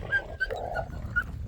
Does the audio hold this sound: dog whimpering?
yes